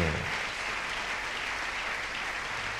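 A church congregation breaks into sustained applause, a dense and steady wash of clapping from many hands that fills the room at an even loudness.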